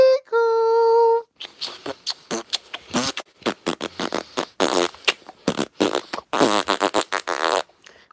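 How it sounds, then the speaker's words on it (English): Loud, close fart noises come in a rapid sputtering series: a long tonal toot first, then many short wet blasts and splutters in an uneven rhythm. "all it was fart noises, and it stunk too"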